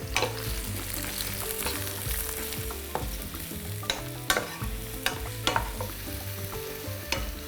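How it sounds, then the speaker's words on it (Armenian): Mushrooms fry in a hot pan, giving off moisture as they begin to brown. A continuous sizzle runs under repeated clinks and scrapes from a utensil turning them, with no voices. "դա անում եմ նրա համար, որ սունկը հյութը դուրս գցի, գոլոշիանա խոնավությունը եւ սկսի կարմրել"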